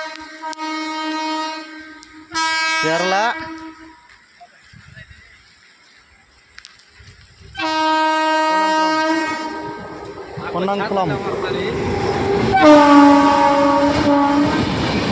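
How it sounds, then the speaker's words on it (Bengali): A train passing through a station, with Kerala mentioned, sounds its horn in several loud, sustained blasts, one falling in pitch as it goes by, amid station noise and people talking. "তিনটা ট্রেন একটা স্টপে, একটা দাঁড়িয়ে আছে বাইরে, একটা স্টেশনে, একটা যাচ্ছে।"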